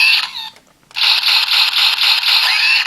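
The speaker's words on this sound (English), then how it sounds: "So now you have a power shot sound." An Ichigan Buster toy from the Buster Gear Series 02 in zoom mode plays its electronic power shot effect: a short bright tone, a brief pause, then a loud string of rapid, evenly pulsing synthetic bursts up close.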